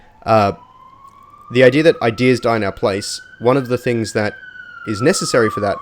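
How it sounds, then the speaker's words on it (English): A siren wails in the background, its rising and falling tone running steadily beneath a man's close, continuous talk. "sorry if you can hear a siren in the background"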